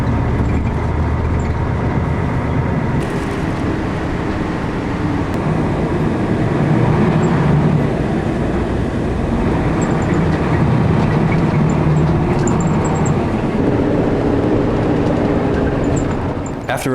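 A continuous rumbling of a train in motion, with rattling and rolling noise throughout and faint murmuring voices in the background.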